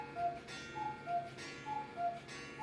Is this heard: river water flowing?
no